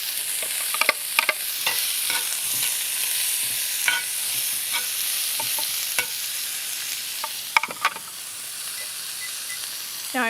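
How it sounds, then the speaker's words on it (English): Onions cook in olive oil in a hot pan under a steady, fairly loud hiss, broken by sharp clicks and scrapes from stirring, with no talking. "I'm gonna throw some olive oil in here. Let's get these onions cooking."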